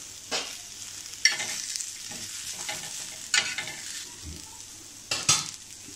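Onion roasting on a hot tawa for a Malvani masala, a steady soft sizzle with a few sharp scraping stirs of the spatula spaced through it, close and alone with no voices.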